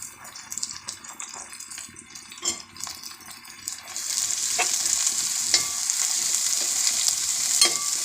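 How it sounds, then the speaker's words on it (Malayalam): Chopped onion dropped into a pan of frying ginger and garlic for a beef curry, with stirring clatter at first, then a loud, steady sizzle that swells and holds with occasional scraping. "ഇനി നമുക്ക് അരിഞ്ഞു വെച്ച സവോള അതിലേക്ക് ചേർക്കാം."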